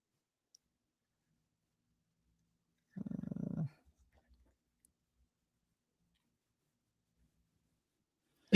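A short, low dog growl from the film Krampus, a single rough burst of under a second amid near silence.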